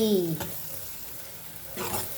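Chopped onion frying in oil in an iron pan while an aamti is cooked, giving a steady close sizzle with brief louder stirring bursts near the start and end.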